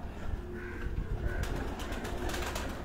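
A black-faced pigeon coos on a rooftop loft, its low soft calls repeating close by over steady background noise, with a few brief chirps from other birds.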